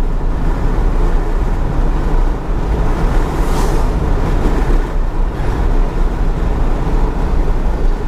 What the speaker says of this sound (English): There's an awful lot of wind noise above me.